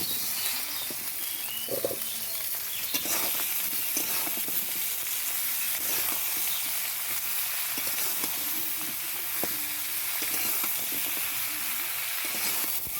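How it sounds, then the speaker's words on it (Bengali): Eggplant, potato and beans frying in a pan for a spinach dish, a soft continuous sizzle with occasional light stirring scrapes, no voices. "এটা আগে ভেজে নিচ্ছি একটু"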